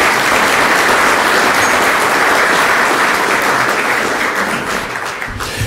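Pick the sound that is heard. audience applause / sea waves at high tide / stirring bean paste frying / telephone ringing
audience applause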